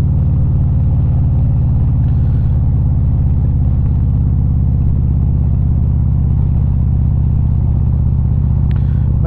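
A motorcycle cruising along a single-lane outback road in Queensland, its engine a loud, steady, close rumble that holds even throughout, with wind noise and no talk.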